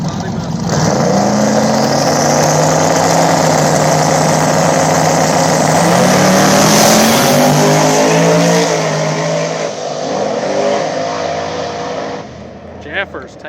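Small-tire drag race cars, including a box-body Mustang, roar at a back-of-the-track race in Columbus, Ohio, engines droning loud and sustained with rising revs before fading, while an announcer talks over them.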